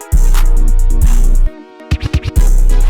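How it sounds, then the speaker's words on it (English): Two short DJ scratch effects cut into a loud hip-hop beat with deep bass hits and a melodic loop; the beat drops out briefly for quick choppy scratch bursts before returning. "just added these 2 little DJ scratch sound effects because I thought it sounded cool"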